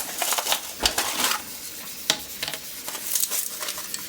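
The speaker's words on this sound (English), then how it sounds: "I am going to grab some ice. I'm just going to dump a whole tray" A whole tray of ice cubes dumped into cold water for cooling a homebrew yeast starter, giving a close, dense run of crunching, clattering knocks and splashes with several sharper cracks, no talking.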